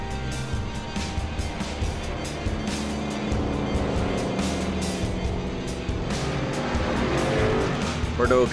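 Race cars lapping the Sonoma track in iRacing, engines droning steadily close by with tire noise, while a commentator talks over the racing sound throughout.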